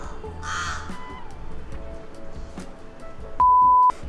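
A crow gives a loud, harsh caw outdoors near the start, followed by quieter ambient noise and a brief electronic beep near the end.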